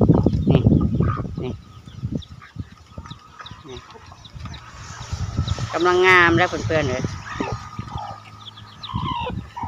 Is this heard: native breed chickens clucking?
yes